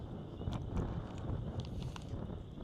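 Strong wind gusting outdoors during severe storm weather, a steady low roaring rush buffeting the microphone throughout with no clear pauses.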